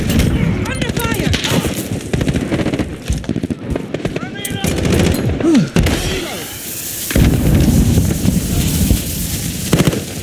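Automatic gunfire and explosions crackle through a Call of Duty: Modern Warfare team deathmatch in St. Petrograd, dense overlapping bursts near and far with booming impacts, while game voices call out over the shooting.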